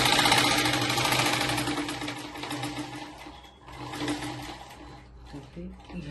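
A sewing machine runs close by, stitching a blouse with a fast even rattling hum that dips briefly and resumes, while someone talks throughout.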